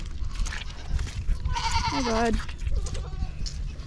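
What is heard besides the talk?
goats bleating on a farm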